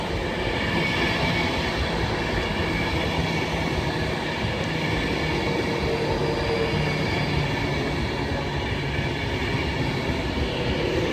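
Class 390 electric train passing through Nuneaton station on the West Coast Main Line, a loud, continuous, close rumble and rush of wheels and carriages that lasts throughout, with no voices.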